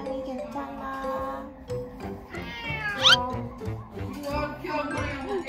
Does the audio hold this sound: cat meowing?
yes